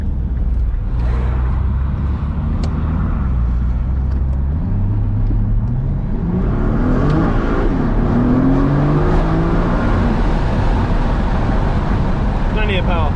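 Standard Nissan GT-R engine pulls hard under acceleration, rising pitch steps marking paddle-shifted gear changes, loud and close from inside the cabin.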